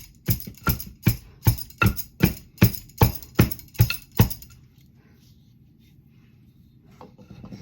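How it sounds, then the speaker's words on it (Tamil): About ten rhythmic pounding strikes as garlic is crushed in a mortar with a pestle, each thud close and sharp at an even pace, then near silence with faint rustling. "இப்போ இன்னும் கொஞ்சம் பூ பூண்டு போட்டு இதோடு சேர்த்து இடித்து கொள்கிறேன்"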